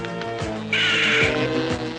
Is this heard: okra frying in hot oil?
no